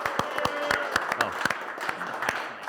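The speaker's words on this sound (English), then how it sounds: "Can we give Niko another round of applause, baby?" A workshop audience claps for a speaker named Niko, producing a scattered burst of sharp hand claps at moderate volume from a modest crowd, thinning toward the end.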